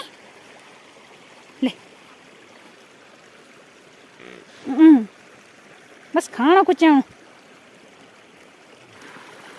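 A hillside river swollen by rain flows with a steady broadband rush throughout, while people talk in short bursts over it.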